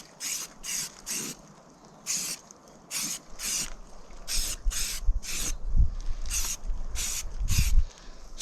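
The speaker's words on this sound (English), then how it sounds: "So watch this wind where it's blowing. I don't need to cover all my stuff in paint." Short bursts of an aerosol spray hiss in an uneven rhythm as a protective coating goes onto the back of a van outdoors, with light wind noise and faint handling sounds between bursts.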